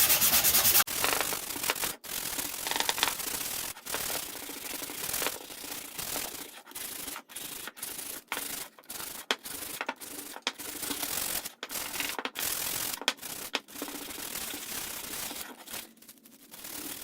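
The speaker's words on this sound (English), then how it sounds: "a bit of sanding to get rid of the pencil marks" Steady abrasive rubbing of sandpaper on scrap wood, continuous scratchy strokes with brief pauses in between, fairly close, removing pencil marks and breaking the edges.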